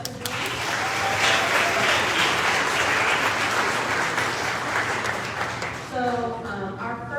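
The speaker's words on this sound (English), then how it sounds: "Let's clap it up for them." A room of listeners at a forum on urban girls' well-being claps loudly and steadily, then the applause thins out as a voice begins speaking near the end.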